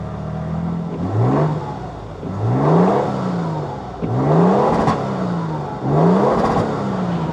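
A Lexus GX550 Overtrail's twin-turbo engine is revved at the tucked-up tailpipe, four repeated blips that rise and fall in pitch, close and fairly loud, with the engine idling between them.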